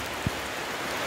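Rain falling in a forest in Sikkim, a brief, steady, even hiss of downpour with one soft low thump near the start and no voices.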